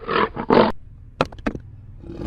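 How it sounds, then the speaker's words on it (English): A toy tiger plays a recorded roar: two loud, rough bursts, then several sharp clicks and short tones, with faint noise trailing at the end. "tiger,"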